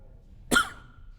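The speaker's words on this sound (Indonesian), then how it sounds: "Sampai saya bersemangat batuk" A single short, sharp cough from a man preaching, close and fairly quiet, standing alone against a low background hum.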